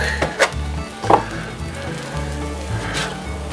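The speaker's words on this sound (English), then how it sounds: "now that garlic's toasted just a little bit, go ahead and put in about a half a cup of milk" Milk hits a hot pan of toasted garlic, giving a soft steady sizzle with a couple of brief clinks and splashes near the start.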